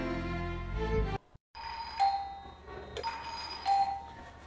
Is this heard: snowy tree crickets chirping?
no